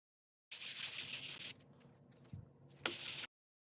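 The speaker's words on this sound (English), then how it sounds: "I'm going to use mineral spirits to clean off the wax, and then it will be ready to paint" Cloth dampened with mineral spirits wiping wax off wood furniture before painting, heard as a loud, close swishing rub for about a second, a quieter stretch with a faint knock, then another brief burst of wiping.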